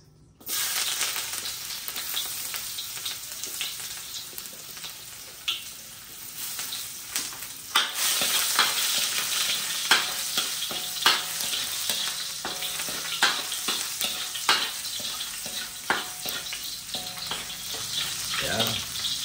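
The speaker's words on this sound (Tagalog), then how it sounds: "sisimulan natin maggisa. Unahin natin ilagay itong ating luya." Ginger sautéing in a hot pan throws off a steady, bright sizzle that runs without a break, with a few scraping stir strokes and crackles rising above it.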